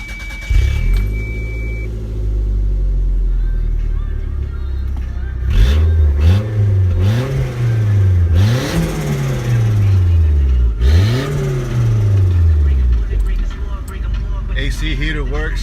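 A 1991 Toyota MR2 automatic with a Gen 4 3S-GTE engine turns over and catches, then revs in several rising and falling bursts at close range, settling to a steady idle, with people talking nearby.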